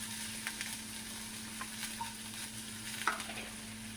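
Finely chopped onions fry in hot oil for a homestyle chicken curry, giving a steady, even sizzle with a few faint clicks, close and alone, with no voices.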